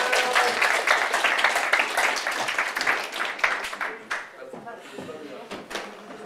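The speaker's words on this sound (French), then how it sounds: "on l'applaudit très fort" Applause from a lecture audience at the end of a talk on superconductivity: a full burst of clapping that gradually thins to scattered individual claps, with a few knocks and shuffles near the end.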